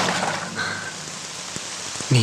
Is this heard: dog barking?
no